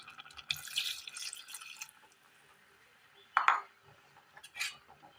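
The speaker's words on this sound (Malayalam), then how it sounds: "ഈ സമയം ഇതിലേക്ക് തേങ്ങയുടെ 2ാം പാൽ ഒഴിച്ചു കൊടുക്കാം." Second coconut milk poured into a simmering Kerala-style curry gives a faint, soft liquid rush lasting about a second, followed by a couple of light clinks of a utensil against the pot.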